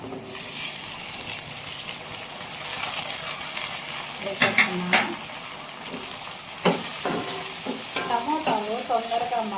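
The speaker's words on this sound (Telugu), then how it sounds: "ఆనియన్స్ కూడా వేగాయి టమాటాలు వేసుకోవడం సన్నలుగా తరిగి పెట్టుకున్న టమాటాలు" Finely chopped tomatoes go into a pan of fried onions for a masala vada pulusu and sizzle steadily, broken by a few stirring scrapes and clinks of the utensil against the pan.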